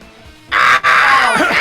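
A voice imitates the Aflac duck with a loud, harsh, nasal squawk that breaks briefly and then continues as a sustained cry, ending in a rough rasp.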